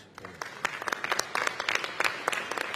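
Scattered applause from an audience after a political speech on Northern Powerhouse rail, a thin patter of claps building and holding across the stretch, moderately near with a faint voice underneath.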